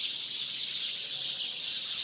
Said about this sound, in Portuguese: A passarada agora está aqui no caramanchão, anunciando novamente o entardecer